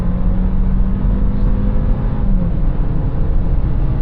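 An Audi A5 Sedan pulls hard at full throttle while overtaking, its engine note holding a steady loud drone with a slight rising pitch, road and wind noise filling the cabin throughout.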